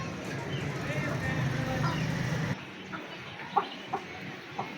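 Chickens clucking near the microphone as they drink water dosed with ND + IB vaccine, soft low clucks layered over a busy background first, then a few sharper separate clucks once it quiets; a person talks over part of it.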